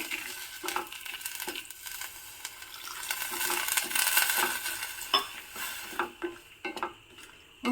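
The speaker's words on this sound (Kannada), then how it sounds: "ಈಗ ನೋಡಿ ನಾನು ಇದಕ್ಕೆ ಒಂದು ಕಾಲು ಆಗೋಷ್ಟು ನೀರನ್ನ ಹಾಕ್ತಾ ಇದ್ದೀನಿ" Water hits hot tempering in a pan for palya, a loud hissing sizzle that swells and then breaks into scattered crackles and pops as it settles.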